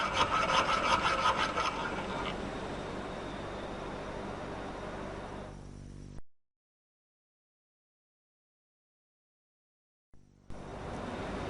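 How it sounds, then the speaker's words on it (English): A round rat tail file rasps against metal in quick, close back-and-forth strokes, then stops abruptly for several seconds of silence before the grinding strokes resume briefly. "The fully round file, sometimes called a rat tail file, can make holes bigger."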